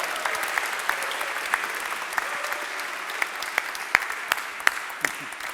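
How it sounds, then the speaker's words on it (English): Audience applause at the BANKATHON hackathon event for a participant, steady and fairly loud clapping from a crowd with a few sharper individual claps standing out near the end. "Big applause to Kabe"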